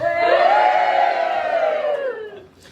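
An audience at a speech event lets out a loud, sustained collective cheer and shout lasting a couple of seconds before trailing off, with no talking over it.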